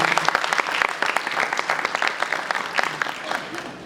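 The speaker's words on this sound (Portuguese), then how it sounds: "Seja muito bem-vindo a Cris, nossos aplausos." An audience at a literary festival round-table in Sabará applauds steadily, with dense overlapping hand claps sustained throughout at a moderate distance.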